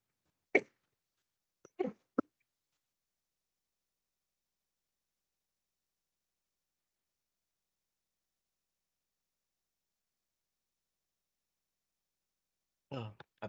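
A person coughs during an online orientation talk for computer science graduate students: one short cough, then a quick cluster of two or three, and after a long silence another burst of coughs, all close and dry in a quiet room.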